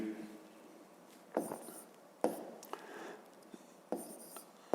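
A pen writing out a math solution on paper, with quiet scratching strokes and a few sharper taps and rubs, close and faint, no talk.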